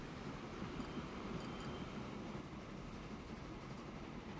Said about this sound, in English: Don't tell me that's the oil train.